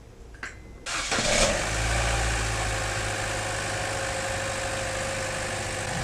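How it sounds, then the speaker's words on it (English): A 2015 Buick Encore with a freshly replaced water pump cranks briefly, catches and settles into a steady, even idle that drones on in a quiet garage. "I'll fire it up and warm up to bleed a little bit."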